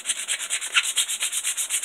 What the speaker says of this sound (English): So now I'm going to take and I'm going to hand sand the rest of this.